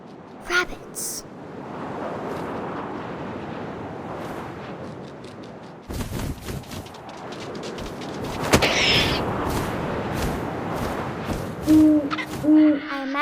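Owl hoots from the video game What Remains of Edith Finch, a few soft repeated calls near the end over a steady windy ambience with rustling and low rumbles throughout.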